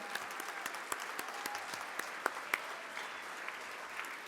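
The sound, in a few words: audience applause welcoming Hall of Fame members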